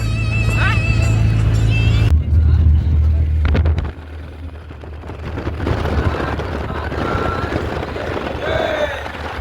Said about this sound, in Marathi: आमची गाडी मार्गी लागलेली आहे सध्या आणि एकदम मस्त स्मूथ चालू आहे